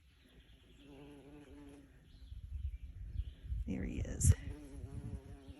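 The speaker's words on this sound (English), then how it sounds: "And my garden is full of bumblebees this morning." Bumblebees buzz around a garden on a morning after rain, a faint insect drone rising and wavering under a nearby voice, with rustling and a brief louder burst near the end.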